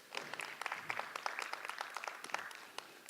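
A small audience claps for a speaker at an evening speaker-series event, scattered individual claps at moderate distance, fairly quiet and uneven, with no voices over it.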